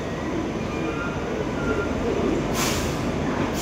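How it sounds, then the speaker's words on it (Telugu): Safari Express passenger train on the Indore to Lingampalli route, a steady loud rumble of the train with a brief brighter hiss of wheels or air near the end, no voices. "సఫారీ ఎక్స్ప్రెస్ ఇదైతే ఇండోర్ టు లింగంపల్లి మధ్యలో నడుస్తుంది"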